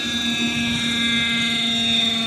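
A Hirobo Lama radio-controlled helicopter flies with an autopilot flight controller, its rotor and motor giving a steady, fairly close whine and drone that holds level throughout.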